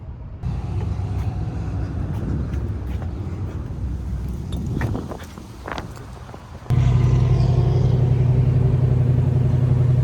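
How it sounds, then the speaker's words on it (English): A car engine rumbles steadily throughout, with a louder, closer surge near the end as another vehicle comes nearer along the road, heard during a breakdown on a 1979 Camaro road trip. "But I think there's another vehicle that I hear coming."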